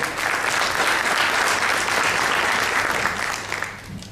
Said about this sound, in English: Can we have a big round of applause for Olaf?